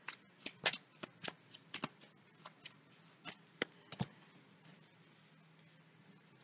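Tarot cards shuffled by hand for a weekend reading, giving crisp, irregular snaps and papery riffles at close range, fairly quiet against a hushed room, with no talking.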